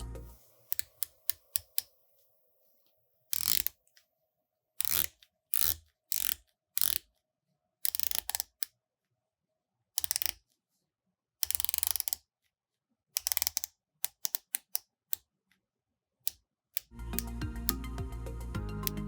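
Crisp ratcheting clicks from a Zelos Hammerhead titanium dive watch bezel in short bursts, some single and some rapid clusters, separated by silences; a louder mechanical rattle closes the sequence.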